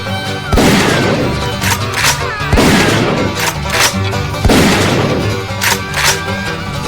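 Rapid gunfire in bursts, sharp loud bangs and booming cracks repeating about every two seconds with echoing tails and crashing noise between shots, no voices.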